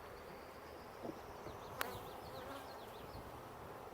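A faint, soft buzzing of honeybees at fresh honeycomb hums steadily throughout, with a brief tap partway through and no voices.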